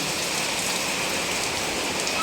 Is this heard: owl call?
no